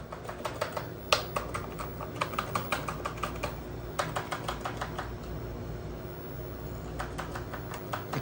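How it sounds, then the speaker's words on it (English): Keys on an old beige TI-99/4A computer keyboard are pressed hard, giving a steady run of close, crisp clacks in quick bursts with short pauses, over a faint background hum. "Started pressing on the keys really hard"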